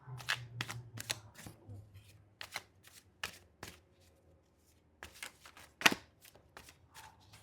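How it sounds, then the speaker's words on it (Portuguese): Tarot cards being cut and shuffled by hand, a quick run of soft papery riffles and slaps, close and fairly quiet, with a low voice murmuring briefly at the start. "Vou cortar aqui as cartas."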